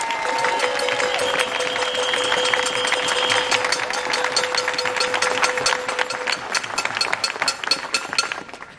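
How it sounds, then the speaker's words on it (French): Crowd applause at an anti-health-pass protest in Auxerre: dense, continuous clapping from many hands, loud and close, with a few sustained tones running underneath during the first half. "j'aimerais aussi qu'on les encourage et qu'on les applaudisse"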